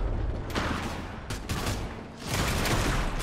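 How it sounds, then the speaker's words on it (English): Bursts of rapid gunfire crackle in short volleys, with a brief lull between them, like a firefight a short way off, in the video game Fortnite. "Oh, yeah, I hear gunfire in the distance."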